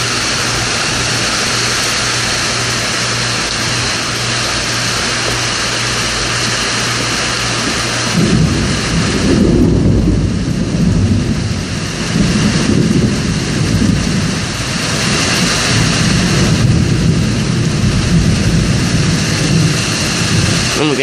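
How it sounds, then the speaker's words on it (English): A thunderstorm with steady heavy rain hissing across the whole stretch, joined midway by deep rolling thunder rumbling on and off, loud and close, with no voices. "today it just started like 5 minutes ago and it's thunder in my area"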